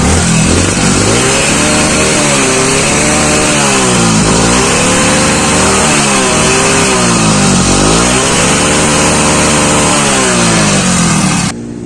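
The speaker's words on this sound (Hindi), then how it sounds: "सबसे पहले गाड़ी स्टार्ट करेंगे, आपको इसका धुआं दिखाते हैं।" A motorcycle engine that smokes in the morning runs loudly up close after starting, its note rising and falling with revving over a steady idle rumble, no voices.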